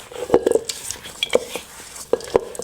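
Brown butter cookie dough being mixed in a bowl, with a few clinking utensil scrapes and taps against the dish, close and moderately loud, spaced out with short pauses.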